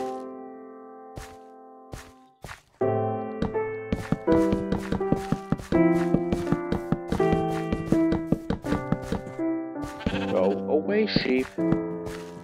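Sheep bleat over and over in Minecraft, the calls overlapping with quick tapping sounds. The bleats are loud and close.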